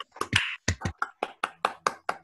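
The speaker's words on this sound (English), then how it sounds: "please unmute yourself and applaud into your microphones" Sparse applause from an online audience clapping into their microphones, about eight separate sharp claps at a steady, unhurried rhythm, each dry and close, with brief silence between them.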